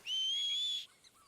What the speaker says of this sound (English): See if I can whistle for him.